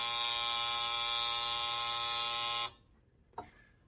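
A tattoo pen machine runs with a steady, loud high-pitched electric buzz for nearly three seconds and then switches off, leaving near-silence with one small click.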